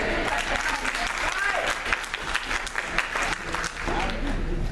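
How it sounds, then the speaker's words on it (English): Steady applause from a conference audience fills the whole stretch, dense and continuous clapping with a bit of crowd noise, no talk over it. "You can clap right there."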